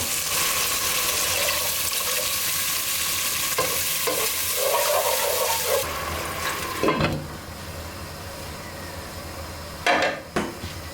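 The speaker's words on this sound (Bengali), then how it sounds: "লো হিটে দিয়ে আমি কষিয়ে নিচ্ছি" A steady sizzle of spiced gourd curry sautéing in a pan over low heat, with occasional stirring scrapes and clinks of a utensil against the pot.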